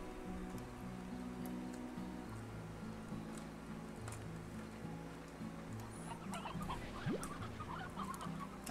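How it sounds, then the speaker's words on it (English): Chickens cluck repeatedly in the video game Slime Rancher, a steady run of soft, overlapping clucks over quiet game ambience, with no talk. "I hear more chickens."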